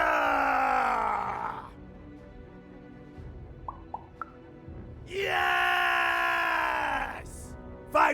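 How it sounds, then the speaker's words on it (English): Characters in the video game Lost in Random screaming loud, drawn-out battle cries, one long scream at the start and another after a quiet gap with a few small plops, then a short final yell. "Now we're working on our battle cries. We need to scream so that our enemies know that we're here."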